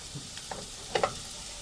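Onions frying to light brown in a pan for Mangalorean mussels sukka, with a faint, steady sizzle and a couple of soft stirring clicks near the end, quiet and close.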